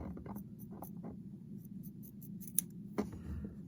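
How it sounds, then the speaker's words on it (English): Sharp scissors snip craft fur several times in quick succession, close and crisp, cutting near the base, with a sharper louder cut near the end over a low steady background hum. "let's take a good pair of sharp scissors, and I just try to cut that"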